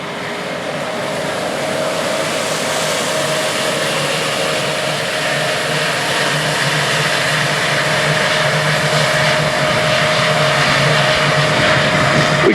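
A Terra Gator TG8400C applicator seeds winter wheat across a field with a loud, steady engine drone and a broad mechanical whir that builds slightly and holds throughout, with no voices.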